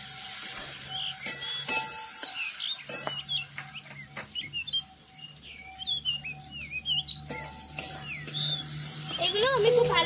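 Melon seeds (charmagaj) frying in a pan for paneer butter masala, with a steady sizzle and occasional stirring scrapes, alongside birds chirping nearby throughout.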